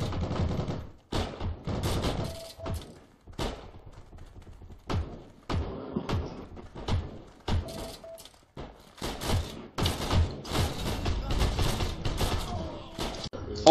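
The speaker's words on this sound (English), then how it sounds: "they're shooting at me" Enemy gunfire in a video game comes in repeated bursts of sharp shots, sometimes clustered like rapid fire, separated by short gaps and continuing steadily throughout at close to moderate range.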